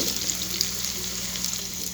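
Hog plums frying in oil with garlic and spices, a steady close sizzle with light stirring, no talk.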